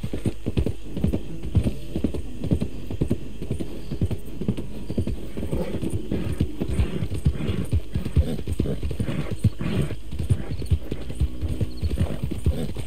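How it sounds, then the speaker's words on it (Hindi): Rapid hoofbeats of an Arabian horse galloping in the video game Red Dead Redemption 2, a steady rhythmic clip-clop with whinnies, close and loud throughout. "ये तो अपना घोड़ा अरबी था जो दौड़ लिया"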